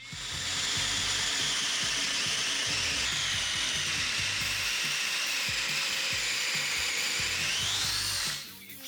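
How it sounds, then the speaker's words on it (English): A hinge pre-drilling bit bores hinge holes into wood with a steady, continuous mechanical whir and grind, loud and close, running for about eight seconds before cutting off abruptly. "Now I can drill for the hinges."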